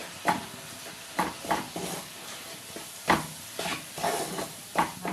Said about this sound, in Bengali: এবার মশলাগুলোকে ভালো করে নেড়ে ছেড়ে কষিয়ে নিতে হবে